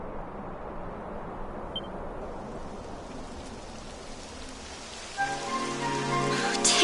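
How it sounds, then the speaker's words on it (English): Steady rain patters and hisses evenly in the video game Dragon Quest XI S, then a brighter layer of ringing, tonal sound joins in near the end. "It would have to go and start raining, wouldn't it?"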